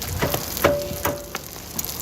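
A wok at a Chinese street food stall stir-fries a dish with chili, making a quiet crackling sizzle punctuated by a few sharp metallic clanks and scrapes of the spatula.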